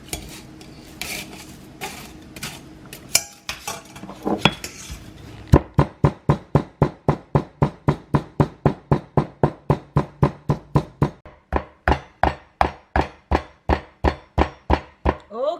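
Chili sauce ingredients for Lao jeow bong pounded into powder in a mortar, a long run of even, rhythmic thuds and clacks, loud and close, after a stretch of rougher scraping and knocking at the start.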